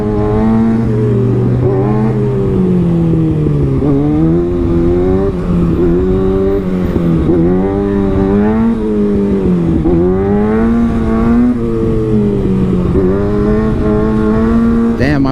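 A motorcycle engine revs hard during a wheelie on a bridge closed for a private stunt show, loud and continuous, its pitch repeatedly climbing and dropping as the throttle opens and closes.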